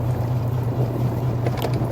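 A motorcycle rides along a mountain trail, its engine a steady, droning hum close by under rushing wind noise, with no talking.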